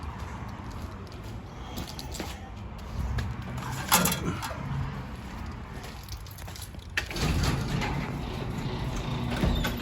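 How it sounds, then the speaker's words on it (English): A door being pulled shut in a garage workshop during engine removal on a 1995 Craftsman LT4000 lawn tractor, with a couple of thuds and a louder bang near seven seconds over steady background noise. "Let me shut this door"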